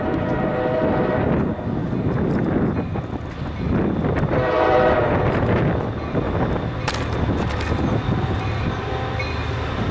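A CSX mixed freight train led by five locomotives passes southbound in Glendale, a continuous heavy rumble and rolling clatter of wagons at moderate distance, with brief horn-like tones and sharp clanks over the steady roar.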